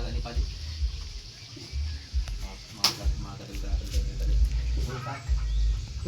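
Chickens cluck and squawk nearby on a rural property during a rainy day of plastering work, mixed with steady background noise and frequent conversation.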